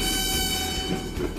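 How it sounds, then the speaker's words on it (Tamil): A train in an animated cycling series rushes close, its loud rumble and rail noise carrying a sustained, harmonic horn blast throughout. "என்ன ஆபத்துல ட்ரெயின் வருது?"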